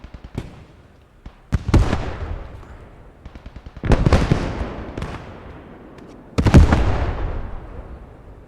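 Mortar rounds landing in the WWII shooter Post Scriptum, fought in a forest: three loud, heavy blasts spaced a couple of seconds apart, each with a rolling rumble that fades, plus smaller distant pops between them.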